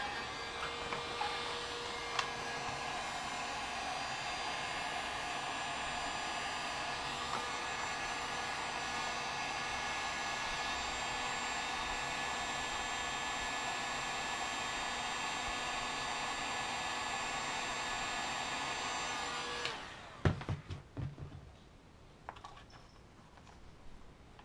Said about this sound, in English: So I'm going to use a heat gun on this and smooth this sucker out